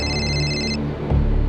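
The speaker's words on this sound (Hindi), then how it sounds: "मेरे पापा का मुझे फोन आया" Electronic phone ringtone for an incoming call, a short steady tonal ring that cuts off abruptly, followed by a brief low thump.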